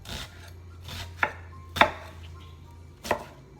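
A knife dices an onion on a cutting board in about five crisp, separate thuds at an uneven pace, close and clear against a quiet low hum.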